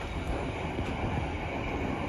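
A Penataran commuter train on an East Java loop line rolls past at a station, giving a loud, steady, broadband rumble of wheels and cars with no break.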